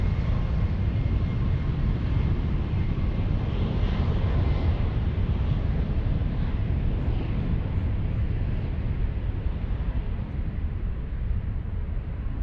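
A Bombardier CRJ 900 jet airliner departs San Francisco, its engines a steady, broad roar that holds loud and even throughout without pause.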